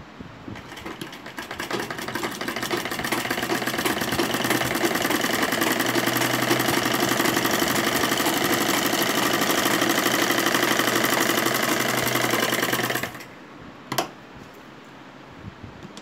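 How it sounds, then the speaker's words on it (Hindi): A sewing machine stitching fabric for a baby garment runs steadily and fast for about thirteen seconds, close and continuous, then stops, followed by a brief clunk. "सिलाई को डबल कर लेंगे और दूसरी तरफ भी आसन की सिलाई लगा लेंगे।"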